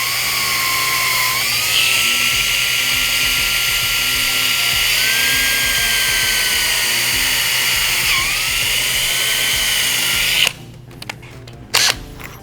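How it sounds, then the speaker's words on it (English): A power drill bores steadily into a plastic whole house filter housing, its high whine loud and continuous with slight pitch dips as the bit bites, then cutting off abruptly into scattered handling noises near the end. "So I'm just going to select an area that looks good to drill and just start drilling"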